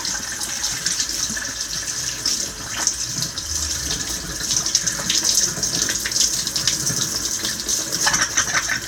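Steady water running from a faucet during rinsing after cleaning with Purple Power degreaser, a continuous close splashing flow with small fluctuations throughout.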